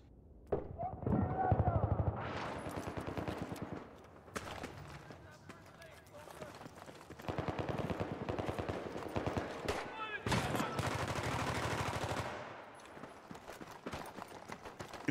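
Rifle fire resembling an M16 in a competitive multiplayer shooter match on the map Damavand Peak, heard as rapid faint bursts and scattered shots under near-constant commentary talk, with pauses between volleys.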